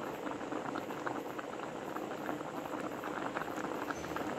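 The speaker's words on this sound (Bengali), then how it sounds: "দেখতেই পাচ্ছেন আস্তে আস্তে ডালটি আমাদের কত সুন্দর ঘন হয়ে এসছে" Dal with vegetables simmering in a covered pot, a soft steady bubbling and popping that stays low and even throughout, with no voices.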